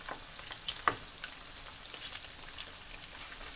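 Potatoes frying golden in a pan, a quiet continuous crackle and sizzle with scattered pops and one sharper tap early on, no talk.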